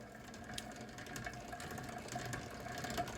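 A pedal-powered pump running dry gives a steady mechanical whirr with rapid clicking, ratchet-like ticks, moderately loud and continuous, slowly building over a few seconds with no talking.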